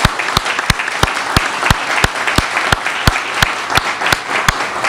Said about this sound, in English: I want to give our students a big round of applause